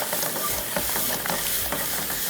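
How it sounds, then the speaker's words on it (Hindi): Mango pudding mixture roasting in a pan over high heat, with steady sizzling and hiss punctuated by regular scraping strokes of stirring, close and moderately quiet. "और तेज़ आंच पर इसकी भुनाई कर रहे हैं"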